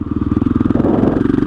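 A KTM 660 SMC single-cylinder motorcycle revving hard through a wheelie, its loud close engine note pulsing in rapid, even firing beats that rise slightly in pitch.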